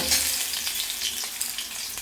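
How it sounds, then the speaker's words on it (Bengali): Rohu fish pieces fry in hot oil, a steady bright sizzle with crackling spits and pops running continuously and close up, no voices. "এই দেখো লাল করে ভেজে তুলে নিচ্ছি, আর এই যে তেলে"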